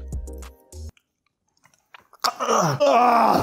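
A bite of pasta with oysters is chewed close to the mic, short wet munching sounds, then a drawn-out groaning moan of reaction.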